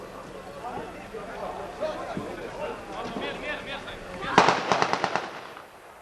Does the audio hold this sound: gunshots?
yes